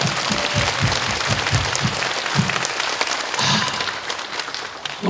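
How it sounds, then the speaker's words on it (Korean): A church congregation breaks into sustained, dense applause after a Sunday morning prayer, loud and close, with a few sharper rhythmic claps standing out early and a steady crowd wash continuing throughout. "우리 하나님께 영광의 박수 올리겠습니다"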